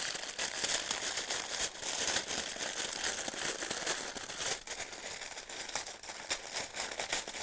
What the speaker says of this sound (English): The packet is too rustly.